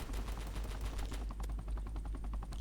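Rapid sustained gunfire in a Roblox video game, a dense stream of quick shots rattling on continuously at moderate level over a low steady hum.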